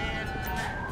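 An ambulance siren wails in GTA 5 traffic, loud and steady under dense road noise for about a second.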